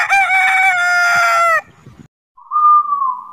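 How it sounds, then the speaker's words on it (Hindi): A rooster crows loudly and close by, one long harmonic cock-a-doodle-doo lasting over a second, followed by a short pause and a briefer, higher call. "यह है कॉक, इसे हम हिंदी में बोलते हैं मुर्गा।"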